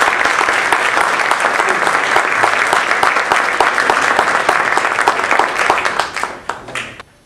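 An audience at a talk on sugar in Sugar Land applauds steadily, a dense wash of clapping that holds loud and even before thinning and fading out at the end.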